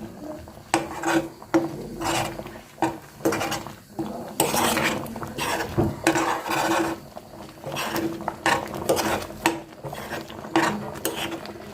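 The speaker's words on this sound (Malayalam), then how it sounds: "നല്ലോണം ഇളക്കി കൊടുക്കണം." A spoon scrapes and stirs a melted mixture in a pan while kozhukatta are being made, giving a steady run of rough, rasping strokes close by with no talk.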